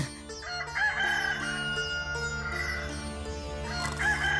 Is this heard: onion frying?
no